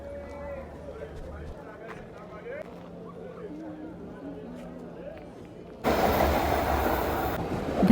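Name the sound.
commuter train arriving at station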